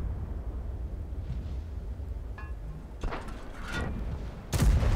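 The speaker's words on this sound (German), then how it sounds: "der IS-6, der bekommt schon die erste Granate gleich ab" A tank shell strikes an IS-6 heavy tank in World of Tanks. Faint, distant rumbles and small reports lead up to a sudden loud, sharp impact blast at the very end.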